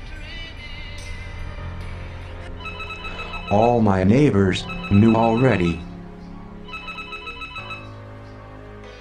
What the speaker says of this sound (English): But the telephone kept ringing.